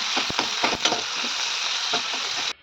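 Chopped onion frying in hot oil with cumin seeds in a pot gives a loud, continuous sizzle with a few stirring scrapes, cutting off abruptly at the end.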